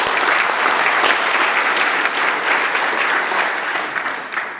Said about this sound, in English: will the House welcome them with warm applause